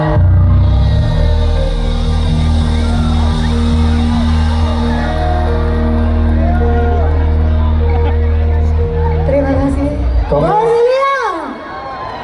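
A concert crowd applauds and cheers for a dangdut singer, a loud wash of clapping and voices under music and amplified speech, fading out near the end.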